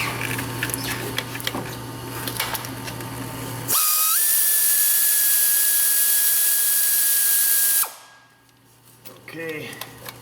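Loud steady hiss of a pneumatic air ratchet with a high whine, running alone for about four seconds while working on a Chevy Colorado engine, cutting off sharply into shop background.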